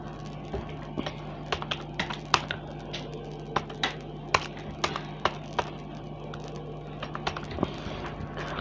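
Fingers type on a computer keyboard while filling in an online form, producing irregular clusters of sharp, close key clicks over a quiet background hum, without speech.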